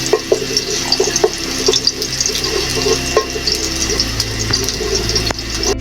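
Utensils being washed in a kitchen sink under a running tap, steady close water flow with clinks and knocks of pots and dishes scattered throughout, no talking.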